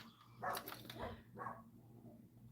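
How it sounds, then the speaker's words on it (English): An indoor dog gives a few sharp barks, loud and near, with a short pause between them over quiet room hum. "My dog sees something."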